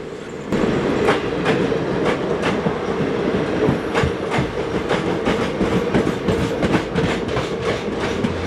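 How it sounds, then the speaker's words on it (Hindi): The 12312 Kalka–Howrah Mail passenger train, one of India's oldest services, rolls steadily along the rails with a loud, close, continuous rumble and a regular clickety-clack of wheels over rail joints, with no voices. "12312 कालका हावड़ा मेल, जो कालका से हावड़ा के बीच चलती है"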